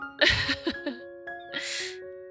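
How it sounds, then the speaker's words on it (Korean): A person sneezes twice in a quiet indoor setting, each a sharp, breathy burst, while soft sustained tonal music plays underneath. "재채기가 방송을 안 도와줘요."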